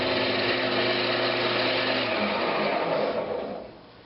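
A wood lathe spins steadily with a high whining hum while a parting tool cuts into a Brazilian cherry lidded box, the tone holding loud and even before winding down and fading near the end.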